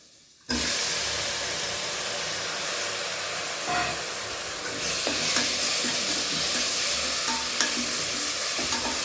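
Tomatoes and coriander powder sautéing in a pan for a one-pot rice dish, a steady loud sizzle that starts abruptly and holds, with occasional scrapes and clinks of a stirring spoon.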